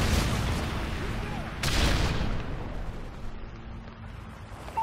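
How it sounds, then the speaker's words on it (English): A Predator missile strike in a Call of Duty-style war game, a heavy boom swelling out of a constant rumble of gunfire and explosions before fading, with game voices audible. "Friendly Predator missile inbound."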